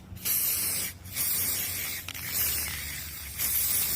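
Aerosol glue sprayed onto a cardboard-lined thong for a sparkly iridescent costume, a loud close hiss in three long bursts separated by brief pauses, with no talking.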